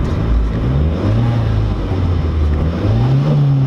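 A Chrysler TC 16v engine runs loud and close, a steady rumbling drone that rises and falls in pitch as it revs, with no talking over it.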